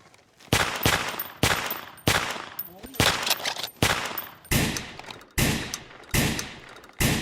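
Loud gunshots ring out in an Indian army comedy sketch, about a dozen sharp reports spaced roughly half a second apart, each with a short echoing decay.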